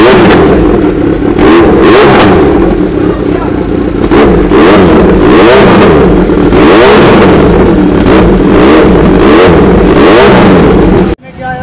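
A superbike engine revs hard through a custom aftermarket exhaust. Loud, repeated throttle blips rise and fall in pitch over a rough, rumbling idle before cutting off sharply near the end.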